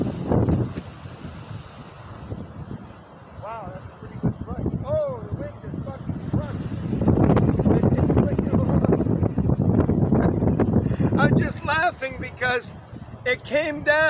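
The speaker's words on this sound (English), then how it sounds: "Wind's about 21 right now" Strong 21 to 23 mph wind buffets the microphone outdoors during a disc golf throw, a rumbling, gusty roar that swells louder midway, with someone talking over it throughout.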